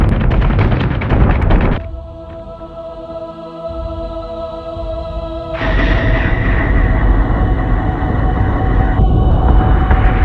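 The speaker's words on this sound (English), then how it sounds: "Target locked and firing." Starship guns fire in the Battlestar Galactica: Deadlock space combat game, a dense, loud wall of rumbling booms with steady tonal hums layered on top, swelling again partway through and continuing without pause.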